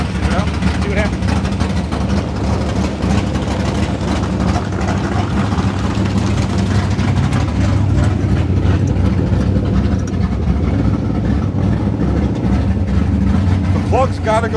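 A Slant Six car engine runs with a steady, loud rumble throughout, heard up close with mechanical rattle over the top and brief voices now and then.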